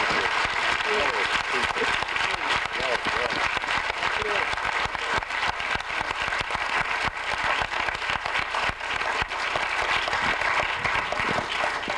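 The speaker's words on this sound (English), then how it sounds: "let's give a great round of applause for this wonderful" Audience applause fills the room after a political discussion panel, dense continuous clapping with voices speaking over it throughout.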